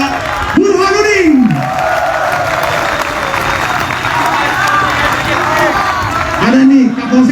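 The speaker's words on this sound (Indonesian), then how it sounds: "kita kasih tepuk tangan untuk Bapak Burhanuddin" Audience clapping at a police closing ceremony for a retiring officer, moderately loud, with whoops and a voice calling out over the crowd at the start and again near the end.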